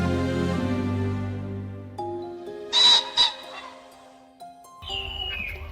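Forest owls call in China's mountain valleys, brief tonal hoots rising out of a sustained musical backdrop that fades, then a couple of louder calls and a sharp burst near the end.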